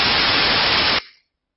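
Synthesized white noise plays as a loud, flat, continuous static hiss for about a second, then stops abruptly with a short fading tail and silence after.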